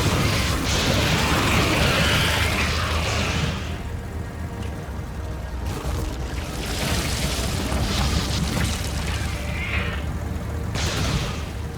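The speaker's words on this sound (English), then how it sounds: "Sounds like electricity when they're shooting." Electric-sounding shots fired by combat capsule units in the Factorio video game, heard as a dense, continuous crackling and buzzing with mechanical clatter and soft booms that stay loud throughout, with no talking.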